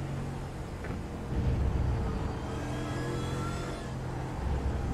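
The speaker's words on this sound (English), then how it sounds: "don't hear that low rumble as well in the car as you do right outside of it" A Mercedes GT3 race car in a racing video game heard from the in-car view, a steady low engine rumble with a droning tone and slight rises in revs, continuous and moderately loud.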